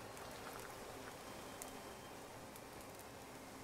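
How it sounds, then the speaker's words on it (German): Steady soft rain in the colony game Clanfolk, a faint even hiss of falling drops with a few light patters, continuous and without voices. "Und es regnet."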